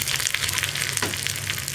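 Dried red chillies and curry leaves sizzle in hot oil for a kichadi, making a bright, steady, close frying hiss with a sharp crackle partway through.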